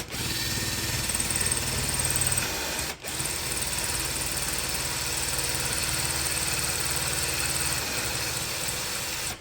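A power drill runs steadily with a bit while working on the e-brake of a 1984 Toyota pickup, giving a loud continuous whine, with one brief stop near the three-second mark before it starts up again.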